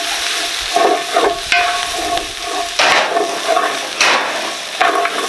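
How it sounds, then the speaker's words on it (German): Vegetables sizzle and fry in a Dutch oven as they are stirred, with steady crackling and scraping bursts of the spoon repeating every second or so, close and fairly loud. "dann kommt das Gemüse rein. Nochmal schön umrühren."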